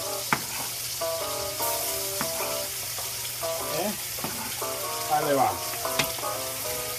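Finely chopped onion sizzles steadily in a hot frying pan while it is stirred. Sung notes and chatter carry over the frying throughout, and someone speaks briefly.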